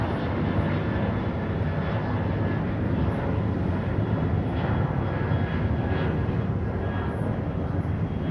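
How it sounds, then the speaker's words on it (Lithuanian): An airplane flies overhead near Crete, heard as a loud, continuous engine drone that holds steady throughout with no clear rise or fall. No voices are heard. "O, ir lėktuvas."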